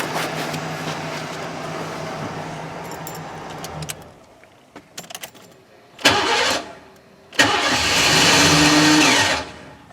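A 1988 Lincoln Town Car with a failing starter solenoid idles, then goes quiet amid faint key jingles. A brief crank follows, then a second crank catches, and the engine revs up loud and close.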